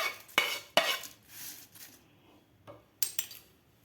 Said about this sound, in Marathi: तळलेला लसूण एका बाउलमध्ये काढून घेऊया आपण.